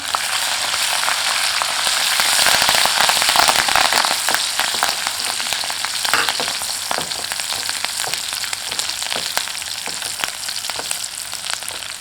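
Garlic sizzles in hot oil with a loud, continuous frying hiss and dense crackling pops, peaking early on, then settling into steady spattering.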